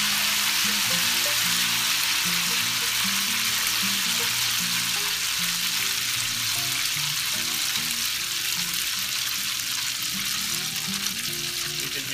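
Tempura batter frying in hot oil, a loud, dense, continuous crackling sizzle close up, with no voices.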